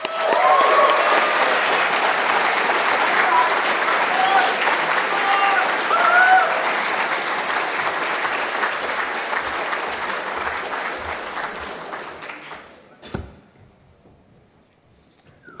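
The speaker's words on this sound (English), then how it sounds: "a round of applause for Turtle Rock." Sustained applause from a large convention crowd at EGX 2014 for the Evolve live demo team, loud and dense with a few cheers, then dying away around thirteen seconds into near silence with a sharp knock.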